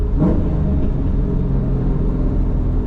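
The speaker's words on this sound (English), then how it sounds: "I'm going to downshift to third." A loud, close car engine from a street-driving Fbody Camaro or Firebird rises in revs as the driver downshifts to third gear on a hilly night touge road, a steady heavy rumble that builds briefly.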